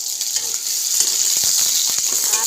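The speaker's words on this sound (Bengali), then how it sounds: "পেঁয়াজ আধ ভাজা হয়ে গেছে, আলুগুলো দিয়ে দেবো। আলু ভাজবো" Potatoes added to half-fried onions sizzle in hot oil in a home kitchen pan, a steady bright hiss with occasional stirring clicks and scrapes throughout.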